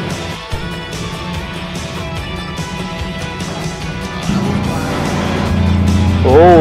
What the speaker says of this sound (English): I'm driving the truck now.